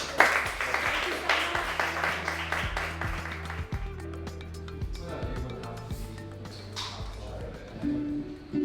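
Audience applause welcoming a performer and players to the stage at an evening show, dense clapping that fades gradually while low sustained instrument tones sound underneath.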